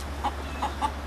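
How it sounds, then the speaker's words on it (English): A rooster in a backyard family flock gives three short, close clucks spaced across about a second, with a low steady hum underneath and no talk. "He's trying to trick this rooster so he can get him out of there."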